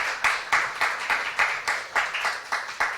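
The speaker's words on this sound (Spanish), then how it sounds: "Un fuerte aplauso para él." Applause from a conference audience welcoming a speaker, a steady rhythmic clapping with regular swells, fairly close and continuous throughout.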